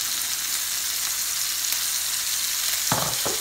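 Pork chops sizzle in a hot pan over raised heat, a steady loud hiss throughout, with a couple of brief clattering scrapes near the end as they are turned.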